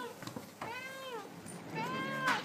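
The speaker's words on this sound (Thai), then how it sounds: "นี่เป็นแมวนะครับ" A black cat gives two distinct meows indoors, the second longer and rising, close and fairly quiet with light background noise.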